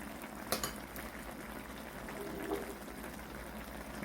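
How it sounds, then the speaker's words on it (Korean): Korean-style braised sardines simmering in a pot, giving a faint, steady low bubbling and hiss with a small clink near the start. "이 상태로 한 5, 6분 정도 졸이면은 국물이 줄어들거든요."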